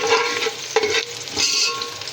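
Garlic sizzles loudly in a hot pan for khichdi, with a steady frying hiss and stirring scrapes throughout, close and without talk.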